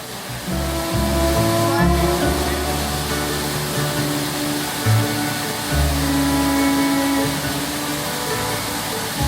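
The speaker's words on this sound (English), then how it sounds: "I made it my mission to get as far as I could underneath the waterfalls" Heavy water from a waterfall pounds down close by in a continuous, loud broadband roar, with faint talking partly buried underneath.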